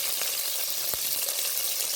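Chopped onions with small and large cumin seeds sizzle in hot oil in a pan, a steady close hiss with a faint stir or scrape of the spoon, no voices.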